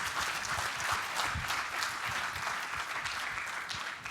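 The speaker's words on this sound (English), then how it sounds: "round of applause for sir, for such a sacrifice" An audience claps steadily at a talk on mobile phone security, a dense, even wash of many hands lasting the whole stretch with no voices over it.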